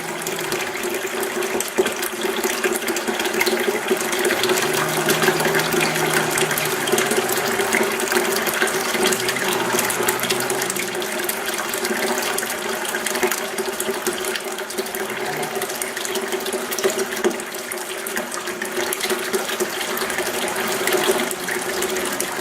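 Water running steadily from a tap into a restored cistern, a continuous hiss and splash that lasts throughout with faint metallic clicks and handling noises now and then.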